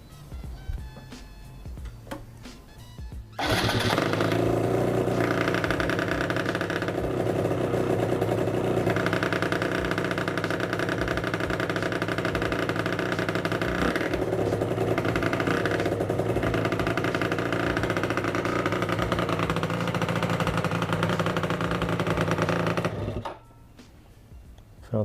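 A Suzuki RG Gamma two-stroke motorcycle engine fires up after a quiet moment and idles loudly and steadily for about twenty seconds, then cuts off abruptly.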